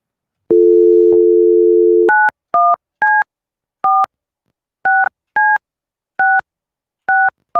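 A landline handset plays a low steady dial tone, then a string of separate keypad beeps, each tone short and clear, loud and close with no voices over them.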